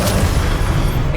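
Spell explosions cast in Hogwarts Legacy, a deep rumbling boom that holds loud and heavy for about a second, with a sharper burst at each end.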